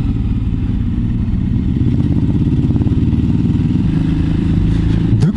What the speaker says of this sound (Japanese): ギア買った俺がこのバイク鳴らしてやる